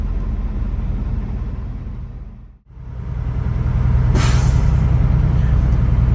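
A truck's air brake governor valve cuts out once the air tanks reach full pressure, giving a brief drop and then a loud, sharp hiss of released air over a steady, close engine rumble.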